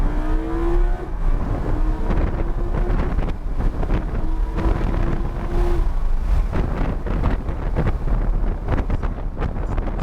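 Lamborghini at full throttle down the straightaway at Homestead-Miami track, a loud continuous engine roar with rising harmonic tones as it gains speed, heavy wind buffeting throughout.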